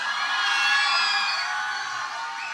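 A large crowd cheers, whoops and shouts for the Filipino pop group BINI at a livestream event: a dense, loud, sustained roar that swells slightly and then eases near the end.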